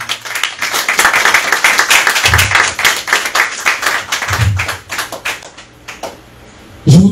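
A church congregation gives loud applause in praise of the Lord, a dense run of clapping that rises and falls for several seconds, then thins out near the end as a voice begins to speak.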